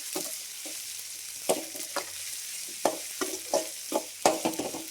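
Ginger garlic paste and onions fry in a pan with a soft continuous sizzle, punctuated by irregular scraping stirs of a spoon, moderately close with no talking.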